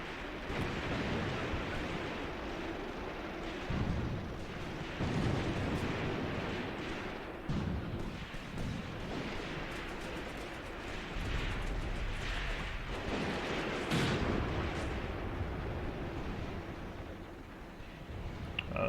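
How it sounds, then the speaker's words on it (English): Howitzer rounds and mortar fire in the Graviteam Tactics war game make a continuous heavy rumble of distant explosions, with several louder booming swells over nineteen seconds and no speech. "Seems to have been some of my howitzer rounds that landed there."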